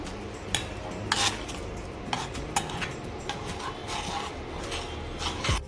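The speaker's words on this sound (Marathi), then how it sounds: "हा जो मसाला आपण मिक्सरला बारीक केला होता तो देखील या तेलामध्ये आपल्याला घालायचा आहे हे या तेलामध्ये चांगलं असं मिक्स करून घ्यायचं" Spoon stirring ground masala and mustard dal into oil for a fresh turmeric pickle, with repeated metallic clinks and scrapes against the pot over a steady low background, no talking.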